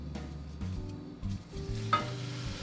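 Onions and garlic sautéing gently over medium-low heat for an Italian sausage sugo, a quiet sizzle with several scraping stirs in an uneven rhythm.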